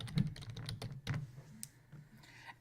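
Light typing on a computer keyboard, a few scattered close key clicks and taps at low level with no voices.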